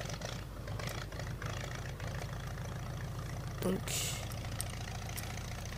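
An old small tractor engine chugs at a low, steady idle nearby, with a brief mechanical clatter partway through and a voice speaking a single short word over it.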